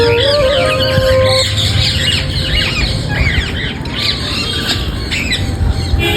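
Green parrots and pigeons squawk and screech while feeding on rice in Bangalore, a dense, loud chorus of overlapping harsh calls and chirps from a close flock, continuous throughout with no talking.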